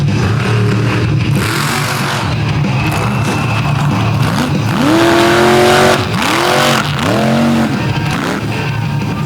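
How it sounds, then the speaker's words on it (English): A big-block engine in a truck roars at high revs during a best trick competition at the Fowlerville Throwdown, loud and continuous with repeated rising and falling revving swells and possible tire squeal. "Putting that big block Sean horsepower to work, brought it back on all 4 tires"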